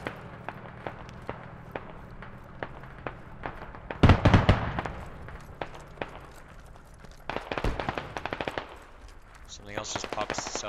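Machine-gun fire from an MG position in the video game Squad, set in Fallujah, rattles in bursts: spaced single shots, a loud close burst around the middle, then further rapid strings, with faint voices between.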